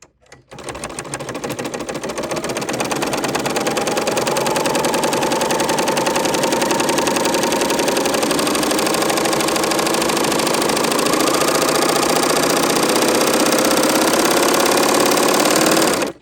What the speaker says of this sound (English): just put our foot down, and just run this thread through the machine